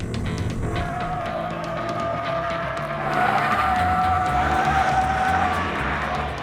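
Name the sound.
race car spinning out with skidding tires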